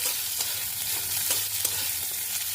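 Prawns stirred in a hot pan with nigella seeds, dried and green chillies, garlic cloves and onion, giving a steady close sizzle with a few soft scraping stirs throughout.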